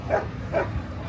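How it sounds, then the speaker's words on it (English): Two distinct dog barks about half a second apart, moderately loud, over a low rumbling background at an outdoor Pontiac car show. "Dogs are trying to get us."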